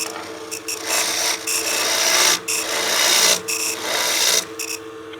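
A woodturning tool cutting into a spinning wood pot on a lathe, loud rasping scrapes in several bursts with short gaps, shavings binding on the tool, no voices.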